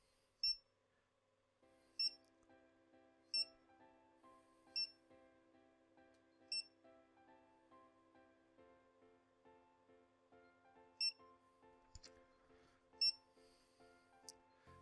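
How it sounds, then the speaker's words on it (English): A barcode scanner sounds a string of short, sharp beeps at irregular intervals as hard drives are scanned in bulk, each beep loud and crisp over a faint, steady tonal hum in the background. "So every time you scan, you're going to hear a loud beep"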